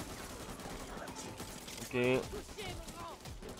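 Rapid gunfire crackles in the co-op zombie shooter Back 4 Blood, faint and steady beneath a player's brief spoken remark.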